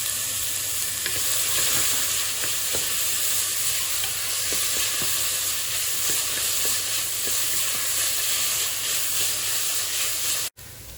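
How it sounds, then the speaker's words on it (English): Vegetable oil and olive oil sizzle steadily in a pan, a loud continuous frying hiss with faint stirring scrapes, unbroken for about ten seconds before a brief dropout near the end. "She's gonna add some vegetable oil now and some olive oil."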